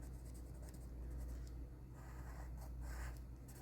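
A pencil shading in a sketch on paper, a steady continuous scratchy rasp held close and fairly quiet throughout, with no talk.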